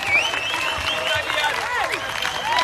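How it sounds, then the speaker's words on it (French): A crowd at a political rally in French Guiana for the territory's deputies applauds loudly, with sustained clapping, shrill whistles and cheering voices rising and falling throughout. "Applaudissez-le encore."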